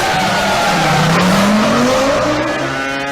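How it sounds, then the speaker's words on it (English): Formula 1 race car from the 2005 season exiting the pit lane, its engine note loud and close, rising in a sustained sweeping pitch with a tire squeal as it accelerates away. "But at least he exits the pit lane second, well ahead of Trulli"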